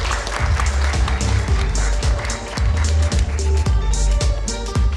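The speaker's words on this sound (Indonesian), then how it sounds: "Tepuk tangannya dong." Studio audience clapping to welcome panel guests at an Indonesian 2024 election Q&A show, steady applause mixed with loud rhythmic music beats throughout.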